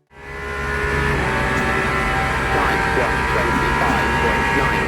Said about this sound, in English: With a V12 engine, there's no doubt that she's the darling of the hypercar scene at the moment.